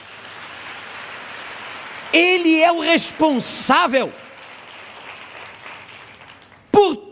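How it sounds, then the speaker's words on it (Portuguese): A church congregation applauds in a steady, diffuse patter that runs throughout, with someone speaking over it in the middle. "Aplauda o nome do Senhor."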